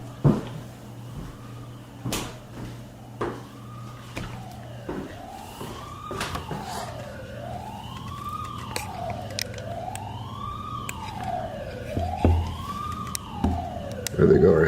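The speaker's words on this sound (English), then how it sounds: "Got some ambulances or something going by." Ambulance sirens wail outside an old prison, a rising and falling tone sweeping repeatedly at moderate distance, with knocks and handling noise nearby.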